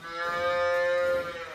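A ranch cow, brought into a head catch, lets out one long, loud moo that rises and holds for over a second, close by.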